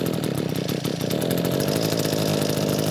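A ten-year-old Echo string trimmer's small two-stroke engine runs steadily after priming, a loud, continuous buzzing drone with a slight wavering, close by with no talking.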